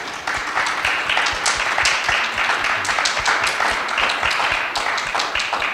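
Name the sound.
applause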